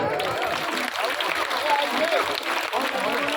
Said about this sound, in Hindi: अब एक बार भी सबके लिए ताली इकट्ठी बजा दें।